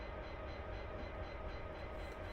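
A train in a simulator game hauling empty wagons uphill on the Settle to Carlisle line, a steady rumbling roar of the locomotive and rolling wagons with a constant hum, continuous and moderately close.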